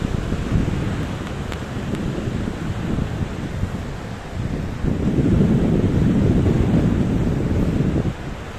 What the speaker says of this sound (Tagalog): Dagat, dagat, dagat.